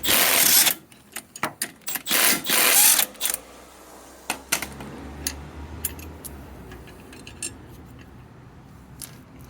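An impact power tool removes U-bolt nuts on a Daihatsu Hijet during a lift-kit job. Several loud, rattling bursts come close together, then fall away into scattered metallic clicks and clanks.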